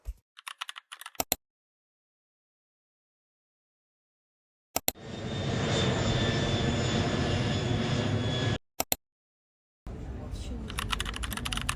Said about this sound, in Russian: Мы сейчас вылетаем из Риги и уже скоро будем приземляться в Париже.